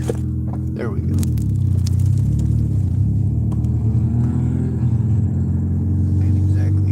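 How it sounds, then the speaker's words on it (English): A car engine rumbles and strains at low revs while being driven with the parking brake engaged, a heavy continuous drone with some scraping noises and a voice speaking over it. "Ain't exactly easy to drive with the parking brake on."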